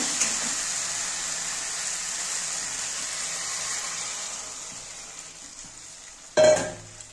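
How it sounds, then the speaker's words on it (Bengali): Loud, steady sizzle of potatoes frying in a spiced masala, fading slightly before water splashes into the hot pan with a brief sharp hiss and gush near the end. "দেখো মশলা কষানো হয়ে গেছে, এবার আমি জল দিয়ে দেব।"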